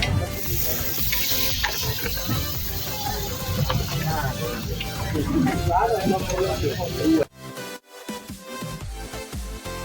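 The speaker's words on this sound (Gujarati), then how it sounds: "અને તરવામાં આવે છે" Vada pav and bread pakora frying in a pan, a loud continuous sizzle with stirring clatter, close up, a voice talking over it before the sizzle briefly drops out.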